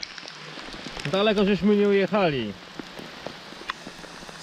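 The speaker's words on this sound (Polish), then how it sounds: "Deszcz napieprza." Rain falls steadily on puddles and trees in a forest in the background while someone speaks briefly over it.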